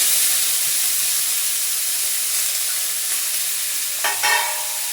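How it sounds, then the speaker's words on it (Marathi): Onion frying in a little oil in a pan, giving a steady close sizzle and hiss, with a brief burst of stirring noise near the end and no talking. "फक्त थोडंसं तेल घालून कांदा परतायला टाकून देते."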